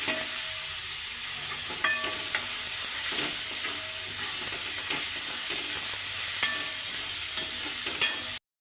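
Onions with ginger paste frying in a pan for a home-style chicken curry, a steady close sizzle and hiss running throughout with occasional spoon scrapes and stirring clinks, no talking.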